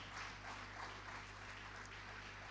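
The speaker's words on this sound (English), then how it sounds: "please can we give him another round of applause." An audience at an environmental health excellence awards ceremony gives a steady round of applause, a dense continuous wash of clapping heard faintly over a low hum.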